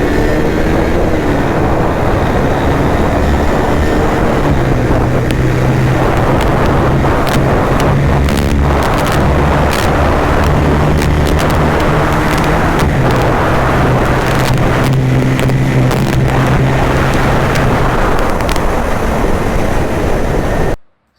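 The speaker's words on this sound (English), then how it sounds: "let's now just do a quick acceleration test of the Pulsar 220" A Bajaj Pulsar 220 motorcycle's steady engine drone under heavy wind rush, its pitch stepping up and down in stages as it accelerates through the gears.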